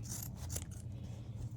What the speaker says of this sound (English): we're going to take our scissors